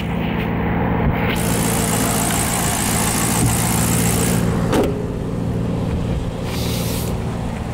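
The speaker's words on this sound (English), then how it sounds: "That's the engine that's running." Steady, loud rumble of a 2010 Maserati GranTurismo engine idling close by, continuous through the whole stretch with a few faint clunks and shifts in tone, no speech.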